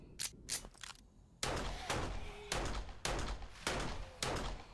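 Gunfire from a weapon in the PC game 7 Days to Die, Alpha 18: a few quick shots, then a steady series of loud, sharp bangs spaced about half a second apart, close and dominant.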